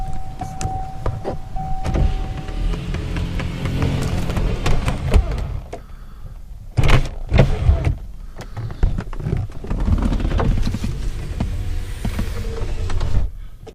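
Electric power windows on a C4 Corvette run up and down several times, a close, steady motor whir with creaks and thumps as the glass stops, fairly loud throughout.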